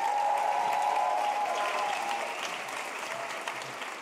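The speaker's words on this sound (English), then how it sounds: "Can you please have a massive round of applause for the wonderful Caleb Femi?" Sustained audience applause at a poetry slam final, a broad continuous crowd clapping that starts strong and gradually thins and softens, with a faint held tone underneath early on.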